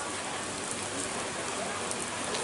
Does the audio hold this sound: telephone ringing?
no